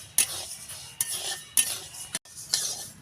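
Mung dal dry-roasting in a dry kadai, stirred with a spatula in four quick scraping bursts separated by short pauses, each a bright rustle of dry lentils against the metal, close and fairly quiet.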